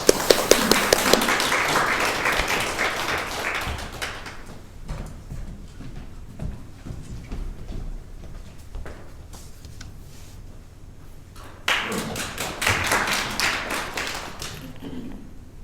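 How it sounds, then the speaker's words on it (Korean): Applause in a church service greeting an elder as he comes up to give his testimony: loud clapping for about four seconds that fades, then a second burst of clapping near the end. "우리 장로님 나오실 때 큰 박수로 환영하도록 하겠습니다."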